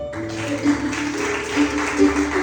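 A church congregation applauds together during a sermon, a dense sustained clapping wash at moderate distance with a faint tonal accompaniment underneath and no distinct speech.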